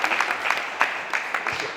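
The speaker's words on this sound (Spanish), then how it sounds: "un aplauso para Víctor, porque de verdad que..." An audience at a Spanish literary talk gives brief, sparse applause, a few scattered claps in an irregular patter that stays fairly light and close throughout.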